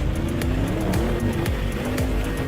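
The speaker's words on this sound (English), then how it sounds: "we then drive over the entire patchwork quilt of ice and asphalt with full load acceleration" A 2021 Audi RS7 Quattro accelerates at full load across a patchwork of ice and asphalt on a hill-climb test, its engine roaring loud and close with rising and falling revs and bursts of tire squeal throughout.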